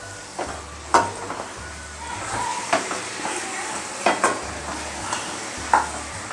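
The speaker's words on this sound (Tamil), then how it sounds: "இப்போ நல்லா ஒன்றா மசாலாலாம் சேர்த்து வதக்கிடுங்க" Mutton and masala being sautéed and stirred in a pan for Tamil mutton kulambu, with a steady sizzle under repeated scraping and stirring knocks.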